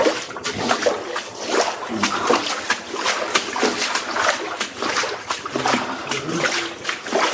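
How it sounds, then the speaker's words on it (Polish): Water drips and trickles continuously in an echoing underground tunnel of the Riese complex in Poland, a busy patter of small splashes without pause. "to tylko cieknie woda"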